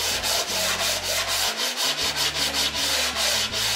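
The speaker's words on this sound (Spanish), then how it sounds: "agarramos la lijita y le pasamos de esta forma" Steady back-and-forth rubbing of sandpaper along edge banding glued to melamine, a rhythmic rasping scrape repeating about three times a second, close and fairly loud.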